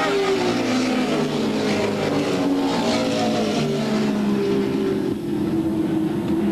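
Stock race cars at Wiscasset Speedway during the 1988 Coastal 100, engines roaring in a steady, loud drone that shifts pitch as the field passes, with no talk over it.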